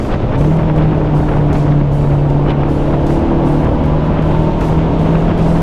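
A 1975 Porsche 914 Targa with a 5-speed cruises down a country road, its engine humming at steady revs in a constant loud drone, with road and wind rush close around it.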